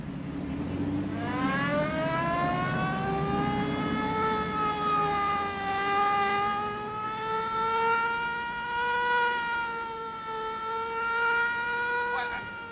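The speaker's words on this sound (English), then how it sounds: "Get your foot off that siren." A car siren from a 1938 comedy film chase wails loudly and steadily for the whole stretch, its pitch rising at first and then holding a long, sustained howl with a slight waver.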